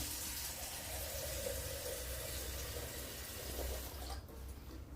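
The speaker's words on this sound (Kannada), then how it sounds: "ಈ ಥರದೊಂದು ಪಾತ್ರೆಗೆ ನೀರು ಹಾಕೊಳ್ಳಿ ಈ ಥರ" Water pours steadily into a cooking pot for a village home remedy, a continuous splashing gush close by that cuts off near the end.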